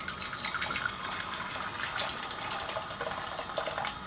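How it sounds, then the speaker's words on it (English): Boiling water pours into a pan sitting on a hob in a steady, continuous gush at moderate level, with no talking. "fill it with boiling water"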